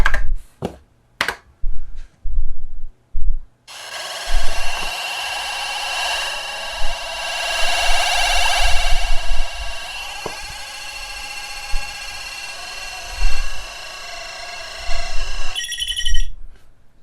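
A TRS-80 Model 1 home computer plays through its built-in audio output: a sustained buzzy electronic tone with a shifting hiss runs for about twelve seconds after several sharp clicks and knocks, ending with a brief higher beep.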